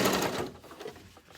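A home sewing machine hems fabric, its motor whirring steadily and close by for a brief stretch, then easing into a softer, lighter hum.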